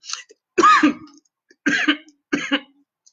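A person with allergies coughs several times in short bursts, close and fairly loud, with brief pauses of silence between them.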